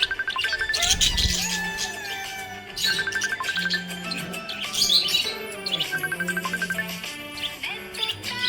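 Happy pet budgie parrot chirping repeatedly in quick bright tweets, close and clear, over a sung Hindi children's song with melody and music.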